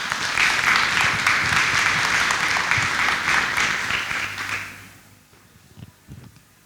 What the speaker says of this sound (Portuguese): Receba o palestrante com uma salva de palmas.